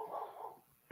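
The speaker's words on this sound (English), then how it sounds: "Whose dog's barking?" A dog barks somewhere in a home during a podcast call, one faint, muffled bark followed by a brief soft thump.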